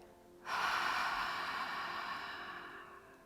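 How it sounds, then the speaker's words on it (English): One long exhale during a yoga breathing exercise, a breathy rushing of air that starts abruptly, stays strong, then gradually fades over about two and a half seconds, close and alone. "Last time, inhale. Exhale."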